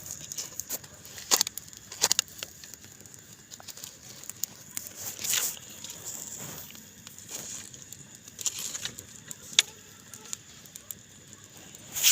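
A Holi festival bonfire burns nearby with irregular crackles, snaps and pops over a low rushing background, the bursts spread unevenly throughout.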